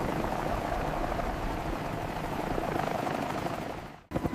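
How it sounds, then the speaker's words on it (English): Steady, loud helicopter rotor roar from arriving rescue helicopters in the Andes fills the air continuously, then cuts off abruptly near the end before a brief burst returns. "70 days after the crash, helicopters arrive."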